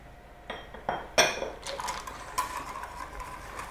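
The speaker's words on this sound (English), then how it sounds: "all I'm going to do there is just tip the chocolate pieces into it" Chocolate pieces tipped into hot boiled double cream for a dark chocolate tart, giving a few light clinks and soft taps in a quiet kitchen, spread over a few seconds.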